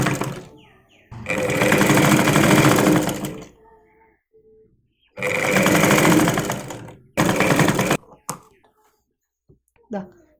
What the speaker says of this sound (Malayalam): ഇതുപോലെ നമ്മൾ സ്റ്റിച്ച് ചെയ്തെടുത്തു.